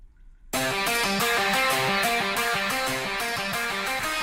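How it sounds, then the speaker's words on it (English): Sampled acoustic-electric guitar run through a digital amp, playing a bright, busy rhythmic riff with repeating plucked notes at steady, loud level after a short quiet lead-in, with no talking over it. "you can make your own guitar sounds that sound like this"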